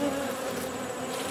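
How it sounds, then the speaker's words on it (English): Honey bees buzz steadily around a hive near a queen cage outdoors among flowers, a dense, continuous close-up drone with no pauses throughout. "Some bees are flying."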